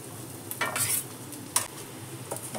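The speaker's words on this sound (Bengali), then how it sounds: "ডালটা বেশ ভালোই ভাজা হয়েছে" Dal (lentils) with ginger being dry-fried and stirred in a pan, giving a soft sizzle with scraping stir strokes and a few sharp utensil knocks against the metal, close and alone with no talk.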